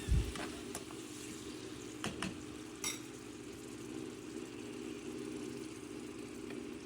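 Chicken pieces fry in a pan for a masala pasta, a low steady sizzle with a few scattered clicks and scrapes from stirring, faint and close, with no voices.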